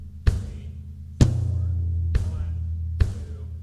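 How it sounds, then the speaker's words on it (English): Four evenly spaced drum hits, each a loud punchy kick with a booming low tail and a bright crack on top, the later ones ringing like toms, played solo as part of a drum lesson on a song. "The very first part starts off with 4 hits on the kick drum,"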